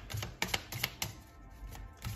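Tarot cards being shuffled by hand, a series of quick irregular riffling snaps and taps close by, several bursts separated by brief pauses, with no talk.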